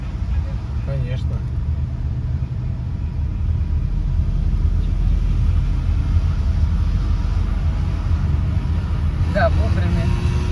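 A struggling car engine with part of the motor not working drones as the car creeps along a mountain serpentine road, a low steady rumble that barely builds under throttle, with faint cabin noises and no speech.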